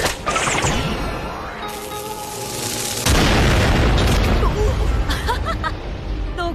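Carriages attacked by bandits explode in an anime battle scene, a heavy boom surging at about three seconds into sustained rumbling roar, with crashing debris and faint crowd hubbub throughout.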